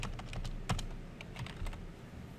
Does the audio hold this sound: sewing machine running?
no